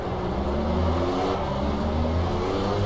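Racing-car engine in Project Cars accelerates with a continuous whirring drone, pitch climbing in overlapping gear sweeps, held steady and fairly quiet with no talk over it.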